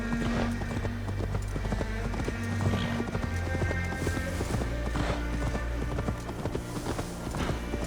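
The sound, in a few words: horse hooves clip-clopping in video game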